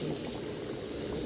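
Banana flower chops frying in hot oil in a home kitchen, giving a steady, dense, even sizzling hiss that runs unbroken through the short moment.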